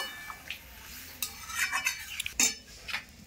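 A spoon stirs jackfruit curry in a pot after water is poured in, sparse close metallic scrapes and clinks against the pan with a faint bubbling sizzle in a quiet kitchen.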